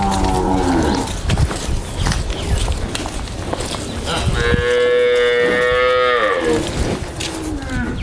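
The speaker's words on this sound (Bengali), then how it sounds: "বন্ধুরা 1 নম্বর গাভীটা সাথে ষাঁড় বাচ্চা দুধের নিয়ে চলে যাচ্ছেন স্বপন ভাই" Dairy cow at a livestock market lowing loudly in one long, drawn-out moo midway through, with people talking and moving around it before and after.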